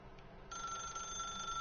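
Telephone ringing in the video game The Stanley Parable, a thin, steady electronic ring that starts partway through and holds faintly behind quiet room tone.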